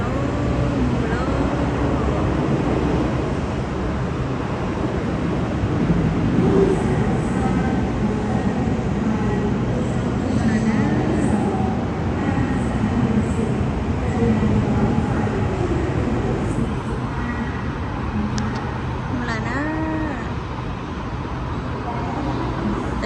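Train noise in Bangkok: a steady, loud rumble of rolling rail cars running the whole time, with faint voices mixed in under the clatter.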